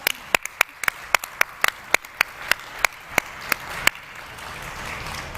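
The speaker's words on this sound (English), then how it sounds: "we should pause and just give a huge round of applause to Sarah" Sparse, scattered handclaps from a small audience at a Silicon Valley tech conference panel, about a dozen distinct claps spread unevenly over a few seconds rather than a full ovation.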